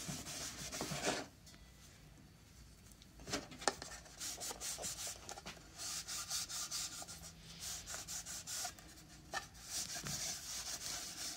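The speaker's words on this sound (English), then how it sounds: "And we'll get a rag and rub it in. And we go from there. Rubbing it with the grain." A rag rubbing finish into a wooden book end along the grain, repeated soft scrubbing strokes with brief pauses, close and fairly quiet.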